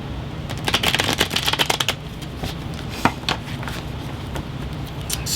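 Tarot cards are shuffled close by in a quick riffling flutter, then softer, scattered flicks and taps as the deck is handled.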